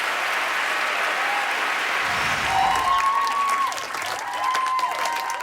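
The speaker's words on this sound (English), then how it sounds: "a huge round of applause for Strathern School" Sustained applause from an audience for a senior school choir at a televised singing competition, a dense steady patter of clapping filling the room for several seconds, with a few faint voices and whistles mixed in.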